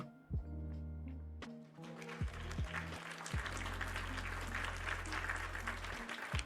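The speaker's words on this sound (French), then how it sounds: "Je vais moi-même m'auto-applaudir" A lone man claps for himself after finishing a build, a burst of near handclaps over music with steady tones, brief and self-congratulatory.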